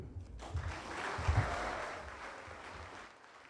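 A school debate audience gives a round of applause, a dense patter of many hands clapping that swells and then tapers off, moderately distant and fairly quiet.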